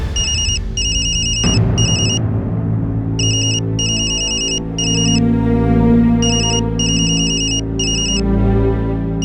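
A phone ringtone chimes in repeated bright electronic bursts with short gaps, playing over a steady musical background.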